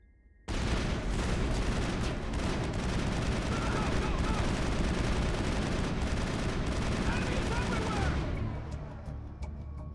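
Sustained automatic gunfire from a Mass Effect firefight, a loud, dense burst of rapid shots running for several seconds before cutting off near the end, with voices faintly mixed in.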